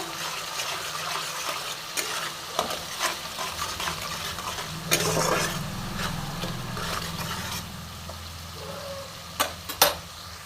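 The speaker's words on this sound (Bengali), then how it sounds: "এবার আমি সমস্ত মশলাটা একসঙ্গে ভালো মতন কষে নেব।" Spice paste for a prawn chilli paste curry being stirred and fried in a pan, a steady close sizzle with scraping spoon strokes and a few sharp clanks against the metal.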